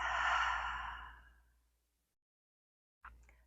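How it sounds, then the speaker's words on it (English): One long audible exhale through the mouth during a yoga breathing exercise, close and breathy, fading over about two seconds, followed by silence and a brief faint breath or sound at the end. "exhale through your mouth"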